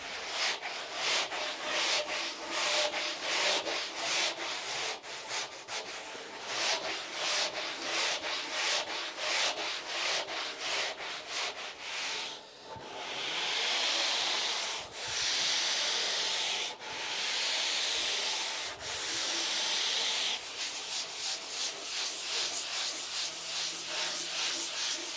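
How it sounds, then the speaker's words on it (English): A small foam soft pad rubs back and forth across the ridges of a Verdure surfboard blank sitting in a rack, making steady rhythmic scratchy strokes, close and fairly loud, that turn into longer sweeping passes partway through. "So what we are running here is a little foam soft pad"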